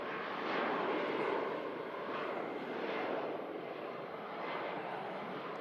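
A Malta Air airliner departs, its engines a steady broad roar at moderate distance that swells and eases slightly throughout, with no voices over it.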